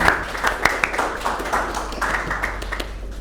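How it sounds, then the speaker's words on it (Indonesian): Classroom audience applauding after a prize giving, a short burst of scattered hand claps that rises and fades over a few seconds with no talk over it. "tepuk tangan untuk kita semuanya"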